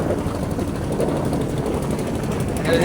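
A trawler boat's engine drones nearby on the water, a steady low rumble without pause, loud and close, with no talking over it.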